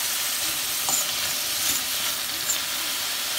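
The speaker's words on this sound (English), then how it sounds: "So they are sizzling." Zucchini and onion sizzle and fry in a pan for a hibachi-style dinner, giving a steady, close crackling hiss with small pops throughout and no voices.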